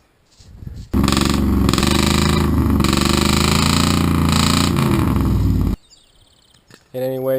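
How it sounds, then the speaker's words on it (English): A 1992 Ford F250 pickup without catalytic converters runs through aftermarket mufflers, giving a loud, close, deep engine roar that holds steady for about five seconds and then cuts off abruptly. "it does have this really cool mufflers, and that's what gives it its distinctive sound"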